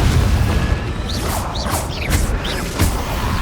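A Confringo fire-blast spell goes off in the Hogwarts Legacy video game, a dense, loud rumble of crackling blasts with swooping whooshes running through it and no pause.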